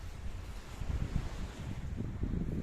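Seaside ambience on a German island: a low, gusty wash of wind and surf with soft, irregular swells, fairly quiet and continuous with no voices.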